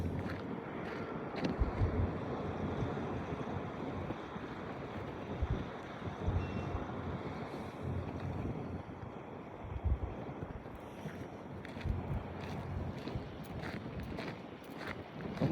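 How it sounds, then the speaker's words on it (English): Strong, steady wind roaring across an open Wyoming setting near Cheyenne, loud and continuous with gusty buffeting on the microphone throughout, no voices. "I know it's a little windy because this is Wyoming."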